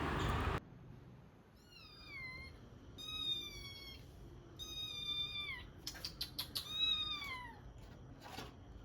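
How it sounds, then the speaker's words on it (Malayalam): A kitten meows indoors, a series of thin, drawn-out cries that come close together, some rising and falling, after a brief loud rustle at the start. "ഒരു ദിവസം രാവിലെ പൂച്ചക്കുഞ്ഞിൻ്റെ കരച്ചിലായിട്ട് നോക്കുമ്പോൾ"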